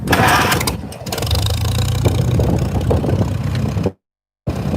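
An engine starts and then runs roughly and loudly at close range, with its revs wavering before a brief cutout and a restart near the end.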